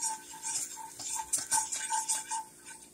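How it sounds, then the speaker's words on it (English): A whisk stirring flour into browned sausage for gravy in a pan, giving a quick, steady metallic ticking and scraping rhythm, close and fairly faint, with no one talking. "Take your whisk. Stir that in there a little bit"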